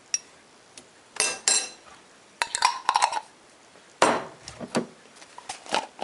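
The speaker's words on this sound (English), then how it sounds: "Put the relish in, put about a teaspoon, heaping teaspoon," A spoon scraping and clinking against a bowl as relish is scooped in for homemade tartar sauce, a series of close, sharp clatters and taps in irregular bursts.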